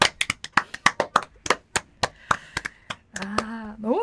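Studio hosts on a Busan indie music radio program give a quick round of close, rhythmic hand claps that thin out and give way to a speaking voice near the end.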